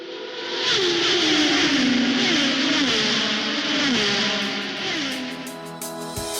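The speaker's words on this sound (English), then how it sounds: "We're going to hop in the car now." A car engine pulls away nearby, rising and falling in pitch through several gear changes as it accelerates, fairly loud and fading slightly toward the end.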